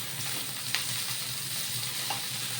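Hilsa paturi wrapped in banana leaf frying in a pan, a loud, steady sizzle and crackle close up with faint spatters and no talking.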